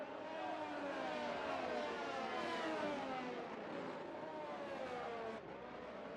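Race car engines revving in the F1 23 video game seen from the spectator view, a continuous high whine with shifting pitch sweeps, fairly faint and with no talk.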